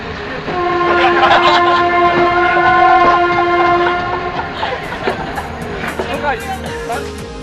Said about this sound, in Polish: pociąg wjechał na peron dworca, pozdrawiając oczekujących dźwiękiem syreny.